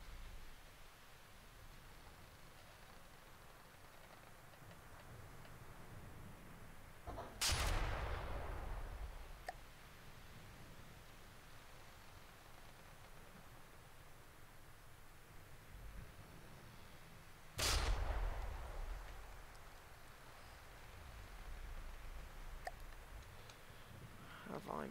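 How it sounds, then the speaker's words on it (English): Battleship turret fire in the From the Depths video game lands as two loud, distant-sounding booms about ten seconds apart, each with a rumbling tail, over a low hiss of background noise. "Oh, one turret's firing."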